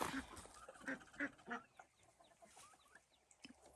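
Farm ducks quack in a run of several distinct calls, moderately close, then trail off into softer, quieter calls and faint background sounds.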